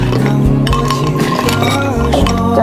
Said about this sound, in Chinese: 加入冰块，